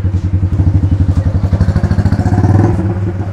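A motorbike on a Bangkok street sounds close and loud, its engine pulsing in a fast, regular putter that builds slightly before easing off.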